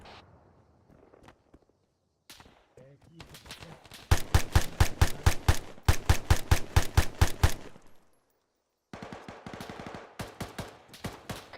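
Gunfire in a firefight in the video game Arma 3, heard as rapid machine-gun bursts in several sharp rhythmic strings with pauses between, plus scattered single shots.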